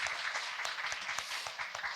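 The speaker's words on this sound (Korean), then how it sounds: "우리 김소영 노무사님 큰 박수 부탁드리겠습니다." An audience at a live Korean talk-concert event claps in sustained applause for a labor attorney being introduced, with dense, continuous hand claps that hold a steady level for the whole stretch.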